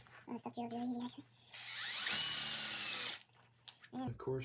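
A power drill bores through a Yamaha YZ426 dirt bike bracket in one loud, grinding burst of about a second and a half, with a voice speaking briefly before and after.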